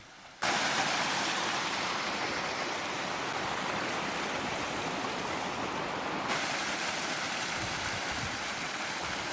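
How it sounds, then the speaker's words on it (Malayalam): A forest stream in Kerala rushing into a dam, a constant loud wash of flowing water, broad and steady throughout with no voices. "ഇത് കാട്ടിൽ നിന്ന് തന്നെ വരുന്ന ഒരു അരുവി കേട്ടോ"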